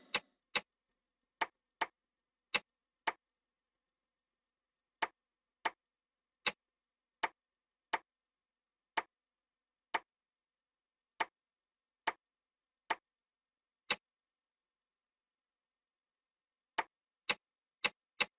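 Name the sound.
ticking clock in the video game Dark Fall: The Journal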